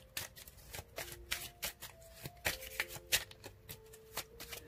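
A deck of tarot cards being shuffled by hand, with repeated crisp riffling bursts and card slaps in an uneven rhythm, close and clear, with faint tones in the background.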